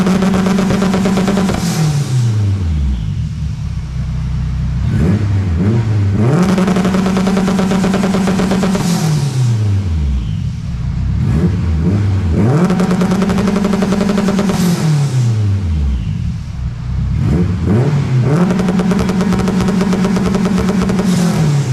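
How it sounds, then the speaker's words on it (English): A turbocharged K20-swapped front-wheel-drive Honda Civic on a dyno revs hard through repeated pulls, rising to a loud scream and then dropping off, with sharp pops and crackles between runs. "The car sounds freaking crazy, dude, and it's front wheel drive."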